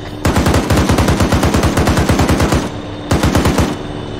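.50 cal machine gun fire in Arma 3: two loud, close bursts of rapid, evenly spaced heavy shots, a long volley then a shorter one after a brief pause, with no voices.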